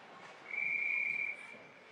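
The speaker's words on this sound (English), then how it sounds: "I think the referee blew the whistle because the kid was down." A referee's whistle blows once at a youth ice hockey game, a single steady shrill blast lasting under a second, heard over faint arena noise.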